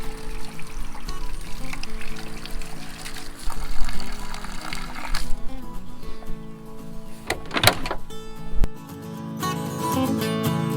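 Water being poured into a herbicide sprayer tank out in the fields, a continuous rushing pour with sloshing and a brief louder splash near the end, close by.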